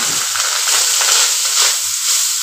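Rice is stirred into a pan of hot oil with ginger paste and a slit green chilli while cooking pea pulao, a steady close sizzle broken by scraping stirring strokes, with no talk.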